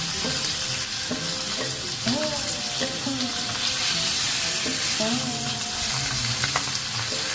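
Pomfret fish fry in hot mustard oil, a continuous close sizzle with occasional spatter and tool clatter, moderately loud and steady with no talking.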